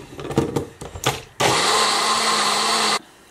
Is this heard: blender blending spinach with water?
yes